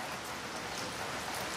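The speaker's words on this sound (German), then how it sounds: "es regnet in Strömen" Heavy rain pours down outdoors onto a balcony garden of herbs and seedlings, a dense, even hiss that continues without a break, no voices.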